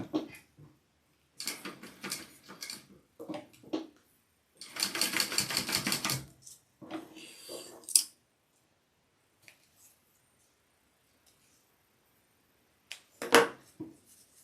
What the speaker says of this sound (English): So I'm going to go ahead and baste those 2 sides here.